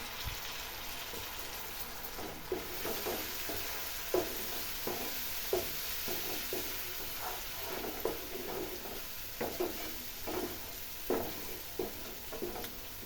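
Green chilies and coriander leaves are stirred into a frying spiced rohu fish curry. A low, steady sizzle runs beneath repeated soft scraping and clicking from the stirring spoon, faint and close.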